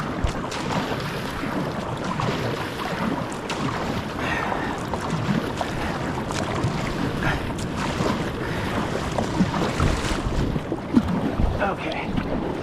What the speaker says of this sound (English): now I gotta paddle this out real quick